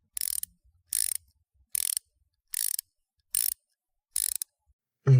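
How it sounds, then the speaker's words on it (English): Cleaning bolt threads on a brake caliper bracket of a Honda CRX Si, six short, evenly spaced metallic ratcheting bursts about a second apart, close and crisp, with no talking. "clean these threads out."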